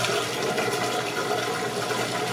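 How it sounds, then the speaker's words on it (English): Steady rushing water pours and gurgles continuously as a machine pumps it out, close and even in volume with no voices. "the washing machine running water out, pushing water out"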